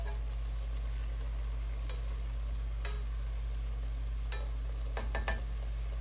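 Chicken afritada, a Philippine stew with garlic and onion, being stirred in a pan: soft sizzling under a constant low hum, with occasional sharp spoon scrapes and clicks near the end.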